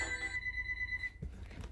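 A telephone rings during a Sonic 1 speedrun stream, a steady electronic trill of several tones that sustains near and fairly loud for about a second and then cuts off, followed by a soft thump and a sharp knock at the end.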